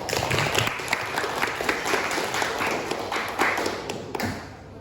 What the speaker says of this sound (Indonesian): Beri aplaus buat Destia.